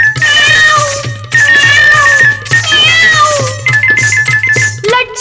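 A cartoon cat meows repeatedly and loudly over a bouncy animated Hindi children's song, its meows layered with a steady musical beat and chiming melody.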